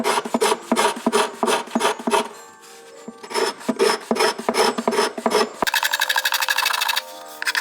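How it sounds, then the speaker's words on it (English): A wooden violin body scraped by hand with a steel scraper, giving rapid rhythmic rasping strokes in close bursts, with a brief pause and a steadier, denser stretch of scraping near the end. "I'm here scraping my violin"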